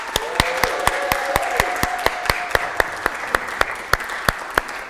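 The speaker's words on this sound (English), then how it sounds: "why don't we practice clapping?" Wedding rehearsal guests clapping in a church, a steady rhythmic run of individual hand claps at an even tempo, close and fairly loud, with a faint voice briefly underneath at the start.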